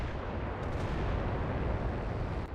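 Video game artillery fire booms in a continuous, heavy low rumble of blasts, with a few sharper cracks layered over it.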